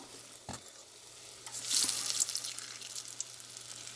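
A banana pie sizzles and fries steadily in a pan after being flipped, a continuous close crackle that swells midway, with a soft clink near the start.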